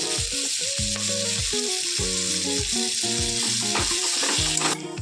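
Fenugreek leaves fry in a pan with onions and green chillies for a mutton curry, giving a steady close sizzle under a background musical melody, with no voices.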